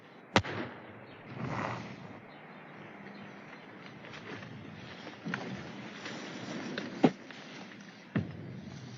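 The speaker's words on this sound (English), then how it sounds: "Hit the deck! Grenade!" A grenade explodes during Marine Corps war games, a single sharp blast followed by a few quieter thuds and pops against a low, muffled outdoor background.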